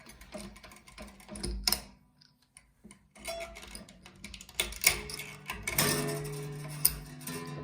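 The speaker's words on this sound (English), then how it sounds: "So I'm going to loosen up this A string all the way to take it right off." Plastic peg winder loosening the A string on an acoustic guitar, a rapid irregular ticking and ratcheting close up, pausing briefly midway before resuming with louder clicks and string rattle.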